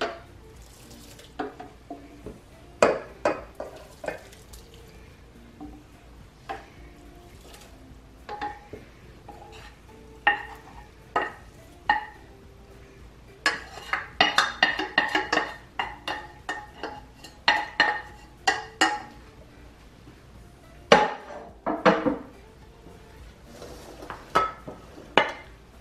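Thanksgiving dressing being mixed by hand in bowls, heard as irregular clinks, scrapes and wet stirring taps against the dishes, near and moderately loud, with brief louder clusters and no talking.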